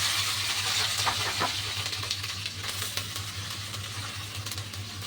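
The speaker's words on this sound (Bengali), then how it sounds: "এবার এই তেলের মধ্যেই যে ভিন্ডিগুলোকে কেটে রেখেছিলাম সেগুলো দিয়ে দিলাম" Chopped okra fries in hot oil left from browning onions for bhindi do pyaza, giving a soft, steady sizzle with faint crackles throughout and no talking.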